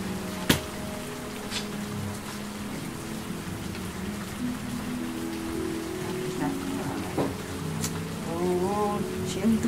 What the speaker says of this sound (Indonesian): Itu lah hujan gede.